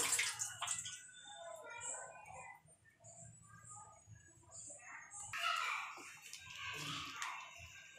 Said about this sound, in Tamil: இதுக்கு ஒரு அரை கிளாஸ் நான் தண்ணி ஊற்றிடுறேன் கொதிக்கிறதுக்கு.